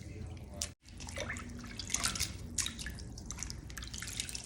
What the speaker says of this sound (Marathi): असे छान चोळून घ्यायचे पान एकदम स्वच्छ दोन पाण्याने धुवून घ्यायचे